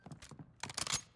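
A gun is reloaded in a video game shooter, with a quick run of clicking, ratcheting mechanical clacks: a few short ticks, then a louder cluster of metallic rattles near the end. Nobody speaks.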